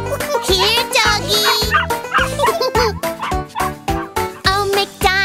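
A cartoon dog barks in a rapid series of sharp yips, loud and close, set against cheerful children's farm-song music.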